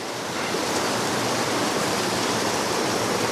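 A waterfall at Three Shires Head pours into a pool, giving a steady, loud broadband rush of falling water, close and unbroken, with no voices.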